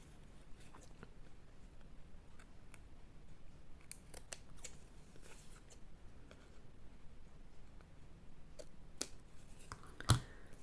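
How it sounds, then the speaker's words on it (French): Scissors trimming excess lace from a small card craft piece, a series of faint, close snips spaced irregularly, with a sharper knock near the end. "je vais juste couper ma dentelle qui dépasse"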